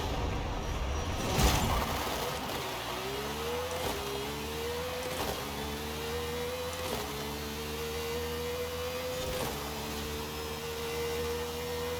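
Car engine launching in Forza Horizon 5, a thump at the start followed by a rising engine whine that climbs repeatedly through several quick gear changes, each shift marked by a brief click, steady and fairly loud with no talk.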